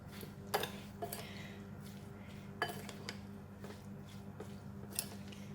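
Minced pork larb salad with spring onions and cilantro being tossed in a bowl: a few sharp spoon-on-bowl clinks over a steady low rustle of wet mixing, close and alone.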